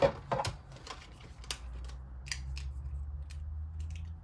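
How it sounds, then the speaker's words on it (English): Paper runs through a die cutting machine as a series of crisp, short crunching and clicking noises at irregular intervals over a low rumbling hum, close and moderately loud. "So run that through the die cutter."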